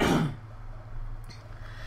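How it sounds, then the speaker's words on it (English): A single sharp cough at the very start, close and loud, then fading into quiet room tone. "I'm gonna cough, sorry."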